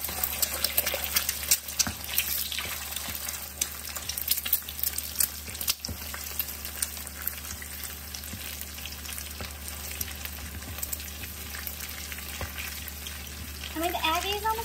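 Egg and noodles frying in a pot as a stir-fry, a steady close crackling sizzle with occasional stirring scrapes, running continuously for the whole stretch.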